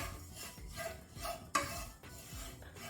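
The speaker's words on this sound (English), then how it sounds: "Lightly roast them, no oil, just on dry pan" Oats dry-roasting in an oil-free pan, with soft scraping and rubbing of a spoon stirring the grains and an occasional sharper knock against the pan, close and fairly quiet.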